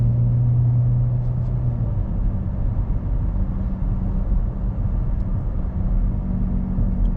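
An automatic car driven with manual shifting changes back up a gear. A steady engine hum drops out of a higher note into a lower, continuous rumble, heard from inside the cabin with no talk.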